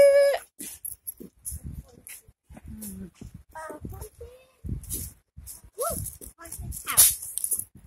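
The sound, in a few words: dog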